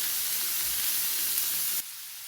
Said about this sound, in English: we're just gonna sweat our leeks off.